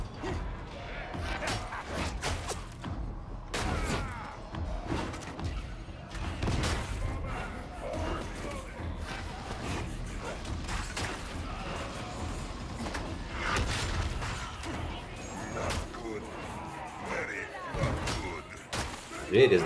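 Heavy lift doors in the game Darktide slam and grind shut with repeated metallic thuds and creaks, mixed with game noise while people talk over them.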